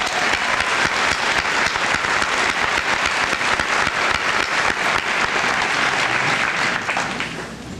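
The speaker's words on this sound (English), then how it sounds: "Let's give them a great round of applause." An audience at a school senior assembly applauds steadily for several seconds, a dense wash of many hands clapping indoors that tapers slightly near the end.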